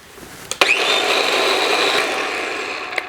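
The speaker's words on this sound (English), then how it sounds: "Just get everything into a food processor or blender. And we will process this until it's nice and smooth." A blender or food processor purées dried chili peppers into a smooth hot sauce, running as a steady whirring, close and loud for most of the span, with a couple of sharp clicks at start and end and no talk.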